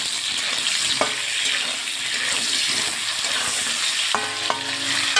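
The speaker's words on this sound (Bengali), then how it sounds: "এবার একটু লাল লাল করে ভেজে নেবো আলুটা।" Salted potato pieces fry in hot oil in a wok-style pan, a constant close sizzle broken by a few sharp clinks of a spoon stirring against the pan.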